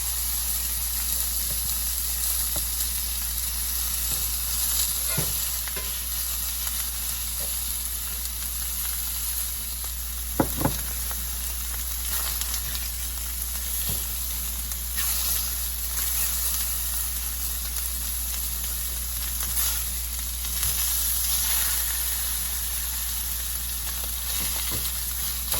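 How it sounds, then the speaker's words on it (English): Beef short ribs sear in a hot pan with a steady, close sizzle and frying hiss throughout, a few sharper pops and crackles breaking through, and no talking. "I'm going to sear them on each side for 1 minute"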